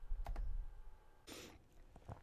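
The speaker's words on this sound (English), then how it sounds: "if you just start typing, it will autofill" Keys clatter on a computer keyboard in a few quick, close bursts of typing with short pauses between them, quiet and with no talking.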